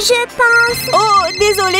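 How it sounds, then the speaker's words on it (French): A mobile phone plays a loud, close melodic ringtone of bright sustained tones while someone speaks briefly over it. "c'est mon téléphone portable"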